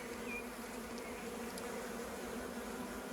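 Honey bees buzzing inside a hive of female worker bees and drones, a dense, even, continuous hum close by with no voices.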